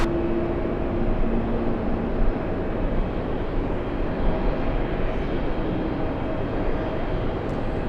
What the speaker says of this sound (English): So we have both Lufthansa and Emirates A380s. They're landing back to back.